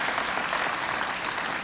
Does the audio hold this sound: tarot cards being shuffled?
no